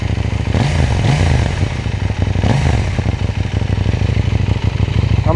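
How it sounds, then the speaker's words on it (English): A 2019 KTM Duke 790 motorcycle with its loud stock exhaust revs up close, the engine climbing sharply twice over a steady throbbing idle. "We'll give her a rev."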